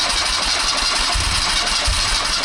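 A 45-year-old BMW R100 motorcycle engine cranks and catches with the choke on, a steady loud mechanical drone running throughout with no talking.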